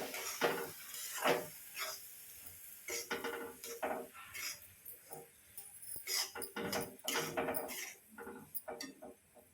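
Semolina roasts in ghee in a pan, with a spoon scraping and clinking against the metal in irregular bursts, close and fairly loud, with no speech.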